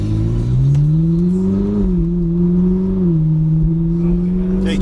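A Ferrari 458 Italia pulls away in first gear, its engine a loud, close, steady drone rising slightly in pitch as it accelerates, with no talk.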